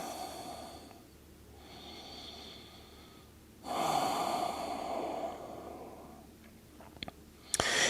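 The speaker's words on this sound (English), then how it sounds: "Another few breaths." Slow, deep breaths come one after another, each a soft, airy inhale or exhale lasting a couple of seconds, with a louder, fuller breath midway and a few small clicks near the end.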